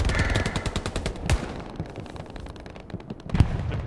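Rapid gunfire from WW2-era weapons, including a Thompson submachine gun, in the online shooter Hell Let Loose, set in a forest; dense bursts of shots crackle throughout, with louder close reports near the start and end.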